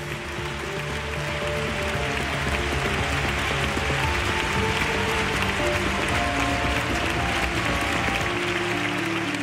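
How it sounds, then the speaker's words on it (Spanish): An audience at the Premios Ondas 2017 ceremony applauds the cast and creators of a Spanish TV series with sustained, dense clapping that fills the hall evenly from start to finish. "Un aplauso para ellos."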